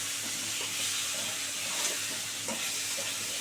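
Chunks of elephant foot yam fry and get stirred in an oily pan, giving a steady, fairly loud sizzle with occasional soft scrapes and clinks of the spatula.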